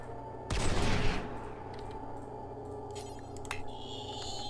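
Colonists in RimWorld fire their guns at a Scyther, a dense burst of rapid shots crackling for about half a second, followed by a few scattered single shots over a low ambient hum.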